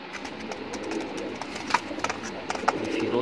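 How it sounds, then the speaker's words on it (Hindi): Firozpuri pigeons coo in a loft, soft repeated low calls over steady background noise, with a few sharper notes toward the end. "फिरोजपुरी कबूतरों में से है भाई"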